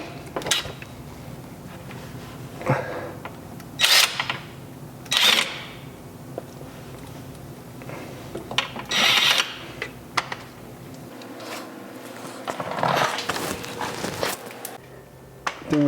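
Several short bursts of ratcheting from a ratchet with an 11/16 socket loosening subframe bolts under a Nissan 300ZX, intermittent clicks and metallic rasps with quiet pauses between, close by.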